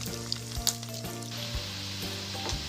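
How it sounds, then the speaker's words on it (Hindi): Potatoes fry in hot oil for a Kashmiri dum aloo curry, giving a steady close sizzle with scattered sharp crackles and pops and no voices. "एक एक करके सब फ्राई करके ले लेंगे सभी आलू को"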